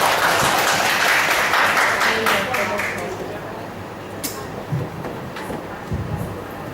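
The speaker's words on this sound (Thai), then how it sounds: "ขอเสียงปรบมือต้อนรับ" Applause from an audience welcoming a lecturer at a public finance training course, loudest at the start and thinning into scattered claps and crowd noise.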